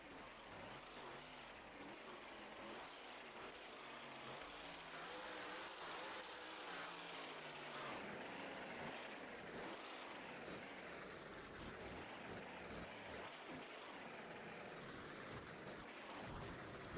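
Monster Mutt monster truck roaring through a freestyle run at an arena, a loud continuous engine growl that surges and revs with a dense crowd-like wash behind it, somewhat distant.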